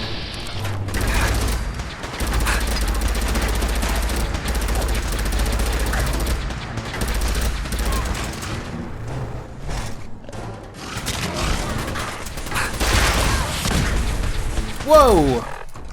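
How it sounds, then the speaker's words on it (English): Missile explosion hitting the player in Fallout 4, part of a dense, loud stretch of rapid bursts, crashes and booms from the game's combat, with chaotic rumble throughout and a voice talking over the action. "I just took a freaking missile to the face"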